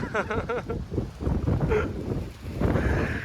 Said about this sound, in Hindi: क्या हवा चल रही है ना, मस्त एकदम।